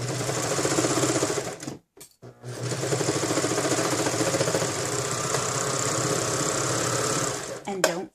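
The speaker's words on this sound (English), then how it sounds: "But if you have a serger, just serge away." A serger overlocker stitching a fabric seam, running in a fast steady whir that stops briefly and then resumes for a long stretch, with someone talking over it.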